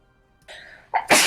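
A single loud sneeze close by, a brief inhaled buildup followed by a sharp explosive burst.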